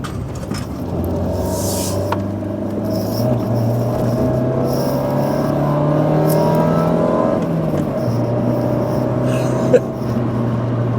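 Old rally-style car engine revving steadily with the throttle held down, a loud continuous drone whose pitch climbs gradually, dips once, then holds, close and without talk.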